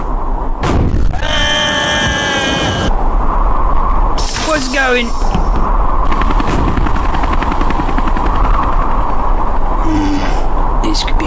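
A helicopter's rotor thrum runs loud and continuous in The Henry Stickmin Collection, mixed with game effects such as thumps, whooshes and cartoon gasps.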